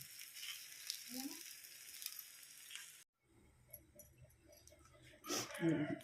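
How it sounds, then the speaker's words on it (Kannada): Fish frying in oil in a pan, a soft steady sizzle that cuts out briefly midway, then returns with crackling bursts and louder spattering near the end. "ಮತ್ತೆ ಫ್ರೈ ಆಗ್ತುಂಡು"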